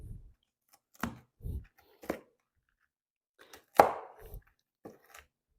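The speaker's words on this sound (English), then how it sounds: "I'm going to chop them this way." Bananas being chopped with a knife on a small cutting board: a few sparse, distinct cuts spaced irregularly, close and fairly quiet, with near-silence between them.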